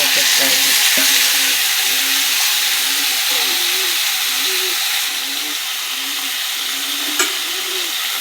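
Tempering of mustard and cumin seeds sizzling in hot oil in a pan for a mixed vegetable curry, a steady bright frying hiss with faint popping and one sharp crackle near the end.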